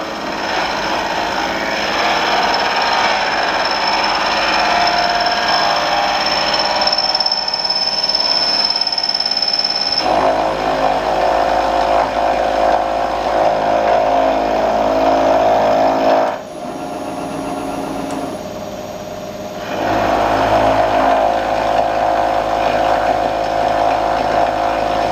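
A machine makes a dry roughing cut on a workpiece with no coolant, giving a loud, steady grinding chatter that runs for most of the stretch, briefly drops quieter partway through, then resumes at full strength.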